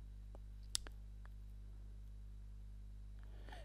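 A single crisp mouse click on an OK button, very close, heard against a steady electrical hum, with a couple of faint clicks afterward.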